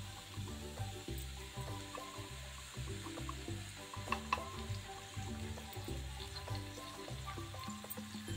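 Ghee sizzling in a hot pan with sweet potato slices, a continuous crackling fry under a low, rhythmic hum, with a couple of brief clinks midway.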